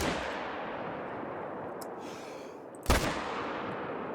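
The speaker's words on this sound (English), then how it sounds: "I'm going to go ahead and shoot this one" A single rifle shot rings out at a bighorn sheep in theHunter: Call of the Wild, one sharp broadband crack near the three-second mark standing out over a steady outdoor ambience with no voices.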